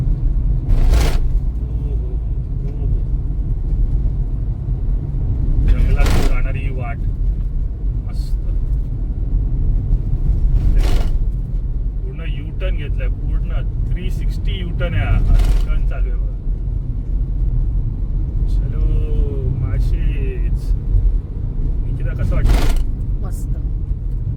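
A car climbs a winding uphill road with a steady low engine rumble inside the cabin, while occasional bumps and clunks punctuate the drive and people talk over it.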